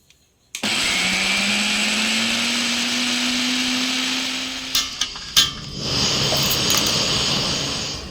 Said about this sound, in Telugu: కొబ్బరికాయ ముక్కల్ని ఇలా చిన్న చిన్నగా కట్ చేసుకుని మిక్సీ పట్టేసుకోండి